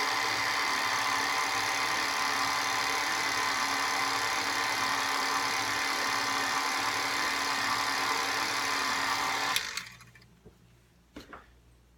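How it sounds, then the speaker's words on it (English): An electric stand mixer runs steadily, mixing chocolate peanut butter layer cake batter, then cuts off near the end, leaving a few faint clicks and knocks. "Just mix it again just to get everything evenly combined."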